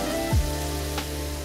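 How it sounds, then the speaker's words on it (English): Spices such as cumin fry in a pan with bacon, onions and capsicum, giving a steady close sizzle, with a short low scrape or thump early on and a faint tick near the middle. "we want to fry off our spices"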